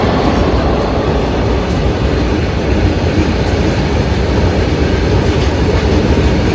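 A train rolling past a railway level crossing, heard as a loud, continuous rumble and rattle of wagons with steady clickety-clack from the wheels. It is close and fills the whole stretch without a break, with no voices.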